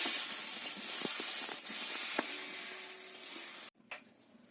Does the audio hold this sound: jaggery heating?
yes